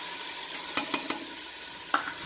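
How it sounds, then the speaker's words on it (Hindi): Chopped onion going into a hot pan of cooked mutton for udhad gosht, giving a low steady sizzle broken by a few sharp clicks and spatters of stirring. "अब इसमें हम डालते हैं एक प्याज,"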